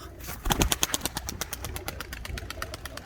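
Birds in a coop flap their wings in a quick series of papery beats, loud and close, with faint cooing underneath.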